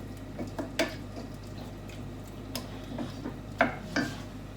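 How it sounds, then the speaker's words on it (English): A spoon scraping and tapping as salt and pepper are stirred into a pizza sauce in a pan, soft irregular clinks and swishes close by over a low steady background hum. "what you're going to do is stir all of that around together"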